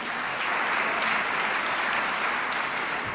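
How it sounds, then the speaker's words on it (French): Steady applause from an audience at an event honouring a radio host's morning-show ratings, an even, dense clatter of many hands that holds at a constant level throughout. "On peut bien sûr applaudir cette performance."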